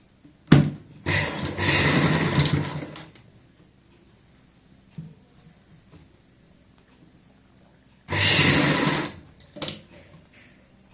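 Sewing machine stitching a kurti collar joint in short bursts: one long run near the start, then quiet, then another burst with a brief tail near the end.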